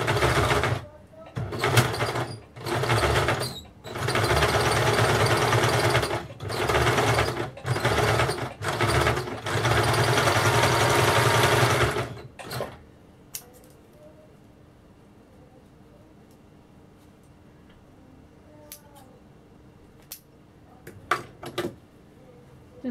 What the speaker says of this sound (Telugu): నెక్స్ట్ ఈ ఎడ్జ్లో కూడా ఒక స్టిచ్ వేసుకోవడం.